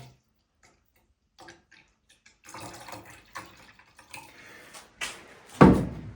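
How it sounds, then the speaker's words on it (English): Water, 200 milliliters in total, is poured into small glass bottles indoors while mixing a scented oil and alcohol blend. Soft trickles and splashes come with scattered clinks and taps, ending in a louder knock. "Then we add water, and for these bottles it's 200 milliliters in total."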